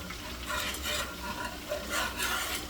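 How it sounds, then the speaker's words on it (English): Cheese grits being stirred in a pot on low heat, a soft steady scraping and swishing with faint sizzle-like texture, close and moderately quiet with no talking. "Just keep stirring."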